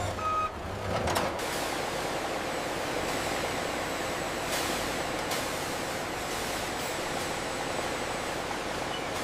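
A truck at a bull horn factory loading dock sounds reversing beeps over a loud, constant engine and industrial rumble, with a short clatter near the start.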